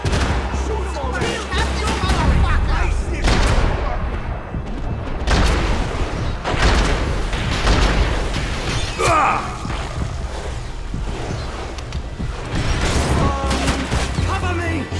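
Gunfire in the shooter video game Max Payne 3, with repeated bursts and booming shots, clattering mechanisms and shattering debris in a chaotic firefight, and voices calling out between the shots.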